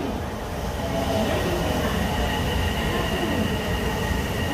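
A Port Liner train rumbles steadily through a station, with constant low rail noise and faint squealing wheels, loud and close throughout.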